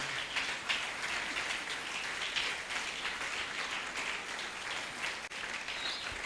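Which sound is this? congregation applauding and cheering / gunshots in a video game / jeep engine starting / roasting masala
congregation applauding and cheering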